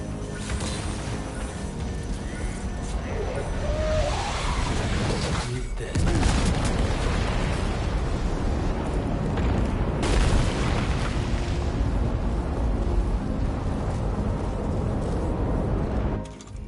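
A cannon in the video game Death Stranding 2 fires and explodes in a dense, continuous roar of booming blasts and rumbling, with heavier bursts partway through and near the end.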